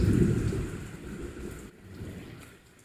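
Steady rainfall hisses and patters throughout, loudest at the start and easing slightly later, with no voices heard.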